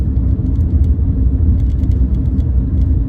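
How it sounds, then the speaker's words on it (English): A steady low rumble of tires on a rough road fills the inside of a moving car, constant and fairly loud. "I apologize if there's road noise. This road's pretty rough."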